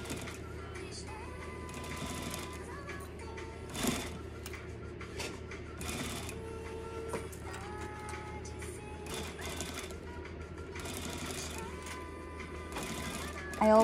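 A sewing machine stitches fringe onto a pillow, its motor whirring steadily in fast, even bursts with short pauses, close by, and a brief louder knock toward the end.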